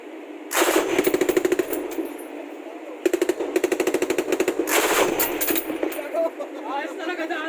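Ship-mounted machine gun in a nest on deck firing loud, rapid bursts of rounds in several strings, with brief pauses between and people talking afterward.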